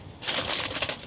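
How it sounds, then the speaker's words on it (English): Aluminium foil crinkled and pressed over potatoes on a grill outdoors, a brief close burst of crackling rustle with a few sharper crinkles. "I'll take and put a little piece of foil on top of them"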